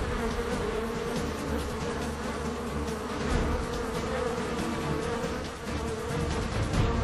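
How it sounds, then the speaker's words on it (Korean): Hornets attacking honeybees at a hive, a dense, continuous buzzing of many insects close by, droning steadily with slight swells in loudness and no voices. "날카로운 턱으로 꿀벌을 공격해 죽이는 말벌"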